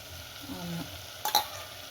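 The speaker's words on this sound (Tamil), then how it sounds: "இப்போ இந்த ஸ்டேஜில் நம்ம தயிர் சேர்த்துக்கிறோம்மா." Yogurt is stirred into a frying masala for vegetable biryani, giving a soft, steady sizzle with a brief scraping stir near the end, faint and close with no talk.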